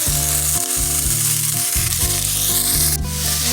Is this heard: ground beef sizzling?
yes